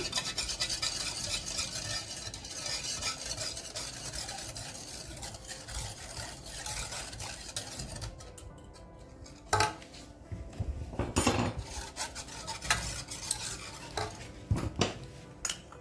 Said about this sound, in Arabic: كنضيفو السكر ثم كنخلطو